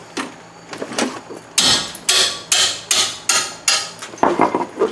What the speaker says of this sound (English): Can't get the gun on it, we'll just use a hammer.